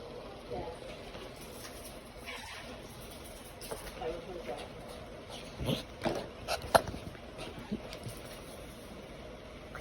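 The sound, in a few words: puppy whimpering and barking, wanting to play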